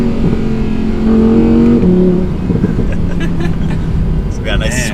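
A 2018 Audi R8 V10 RWS engine drones loudly from inside the car as it accelerates, its tone stepping through gear changes, with people talking over it.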